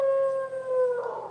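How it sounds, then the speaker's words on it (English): A single close dog howl, a long steady tone that slides slightly down and then breaks into a rougher, wavering ending, loud and alone. "Do you hear Daisy Doo howling"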